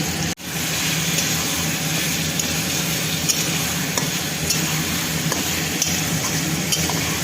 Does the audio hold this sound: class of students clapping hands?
no